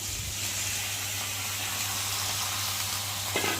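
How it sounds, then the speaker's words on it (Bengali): Marinated chicken frying in hot spice masala in a pan, sizzling steadily and close with a continuous hissing crackle and a small clatter near the end. "আর এখন আমি দেখো চিকেনটা ঢেলে দিলাম"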